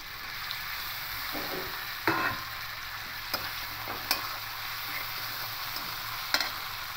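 Chopped tomato with turmeric, chili, coriander and cumin powders frying in a pan for a puffed-rice curry, a steady close sizzle broken by a few sharp spatula scrapes and taps as it is stirred.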